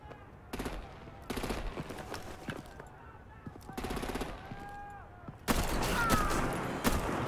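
Heavy gunfire in the Batman Telltale video game, Season 2 Episode 8, breaks out in four separate rapid bursts, the last one the loudest and longest, with voices and other game sounds between them.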